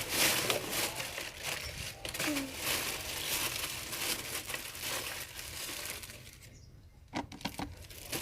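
A plastic bag crinkles and rustles while starch is taken out of it for making slime, a close, scratchy rustling that runs on and off with a few handling knocks, under someone talking quietly.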